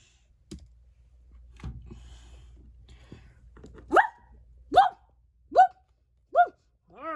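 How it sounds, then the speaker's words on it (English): A dog barks five times in a steady, evenly spaced run, loud and close, following a few faint clicks and a low background hum. "why is your dog barking at my dog?"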